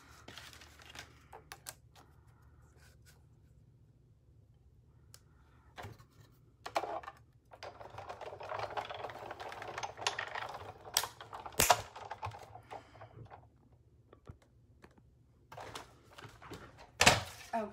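A cutting machine cuts a coffee cup design from adhesive sheet, with quiet clicking and short whirring bursts of the moving blade carriage that grow busier midway, over a faint background hum.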